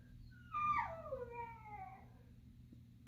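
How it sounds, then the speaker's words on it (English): A dog lets out one rising, wavering howl that slides down into drawn-out whimpers, close by and clear over a quiet low background hum, with no one talking. "We're gonna hear my dog a little bit."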